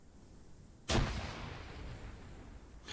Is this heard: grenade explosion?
yes